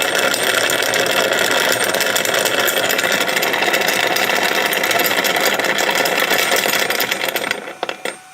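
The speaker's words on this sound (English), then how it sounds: "So that's a 3-phase spinning magnetic top." A 3-phase magnetic spinning top running at higher power gives a loud, steady, dense whirring buzz for about seven seconds, then winds down and cuts off near the end.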